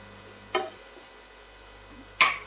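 Chickpea greens cooking in a pan, a faint low sizzle punctuated by two sharp scraping taps from a stirring utensil, spaced well apart and alone without speech.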